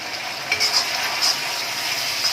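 Light soy sauce hits a hot pan on a high flame while chicken is being cooked for chilli chicken, giving a loud, dense, continuous hiss with a few sharper spits and clinks.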